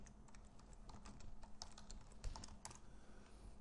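Typing on a computer keyboard during a database software tutorial, a quiet run of quick, irregular key clicks, close and soft, with no voices.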